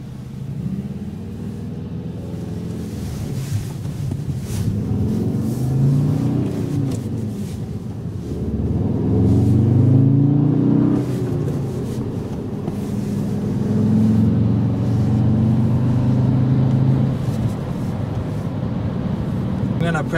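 A 2011 Volkswagen Jetta GLI with a manual transmission pulls onto Southwestern Boulevard, its engine rumbling and revving in rising and falling swells from inside the cabin, with road noise and someone talking over it.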